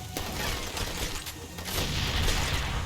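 Grenade blast in the game Far Cry 2, heard as a dense burst of booming rumble and crackling debris that fills the short clip loudly and without talk.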